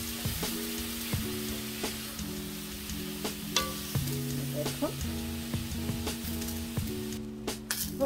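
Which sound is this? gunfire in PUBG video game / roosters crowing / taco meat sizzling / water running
taco meat sizzling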